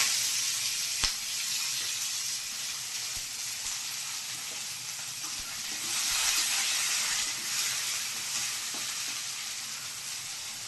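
Onion frying in oil with nigella seeds and dried chili, giving a soft, steady sizzle and hiss. A few sharp clicks and light stirring sounds break it at intervals, with no talk.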